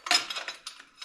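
A metal bolt with a couple of washers handled up close, giving a quick string of light metallic clinks and taps, faint and with no talking.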